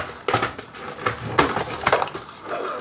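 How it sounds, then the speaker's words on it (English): Several sharp knocks and clattering impacts of a camera being struck and smashed, scattered across a few seconds, fairly close and with no voice over them. "Sorry for smashing the camera."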